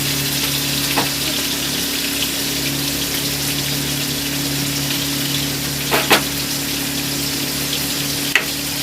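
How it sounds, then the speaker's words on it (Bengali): Fish frying in a pan of hot oil, a steady continuous sizzle with faint background hum and a few brief clicks and knocks, no one talking. "আমি মাছটা ভাজতে বসিয়ে দিয়েছি"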